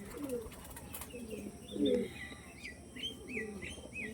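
Fancy pigeons of the Malbai breed coo softly close by, low throaty calls repeated a few times, with a few sharper higher chirps and faint background noise.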